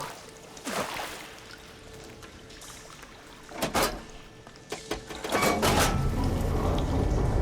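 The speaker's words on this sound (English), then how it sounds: "It sounds like the water's switched." Machinery in Horizon Forbidden West switching water flow: rushing, pouring surges and mechanical clunks build in bursts, ending in a loud, sustained watery roar, with no talk.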